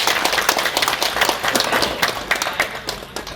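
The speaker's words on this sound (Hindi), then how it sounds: "धन्यवाद के रूप में तालियों के साथ तालियों की गड़गड़ाहट के" Audience applause at a public gathering in Ayodhya, a dense patter of many hands clapping steadily for over three seconds, moderately loud and close, with no talking over it.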